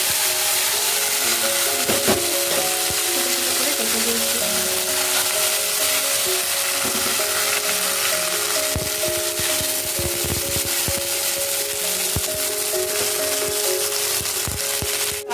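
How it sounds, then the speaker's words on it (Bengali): Salted paneer fries in oil with a little ghee, giving a dense, continuous sizzle scattered with sharp crackles and pops, close and loud, over a faint steady hum. "নুন দেওয়ার পরে এই যে পনিরটা ভাজা করব"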